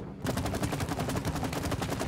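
Rapid gunfire from the video game It Takes Two: dense, continuous bursts of shots begin after a brief silence and run steadily at a loud, even level to the end.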